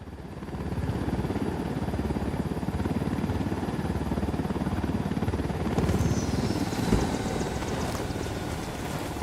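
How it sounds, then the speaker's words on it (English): A helicopter in Ghost Recon Wildlands drones steadily with a dense, throbbing rotor chop that holds at a loud, even level for about nine seconds, swelling slightly near the end, with no voices over it. "Who need that chopper?"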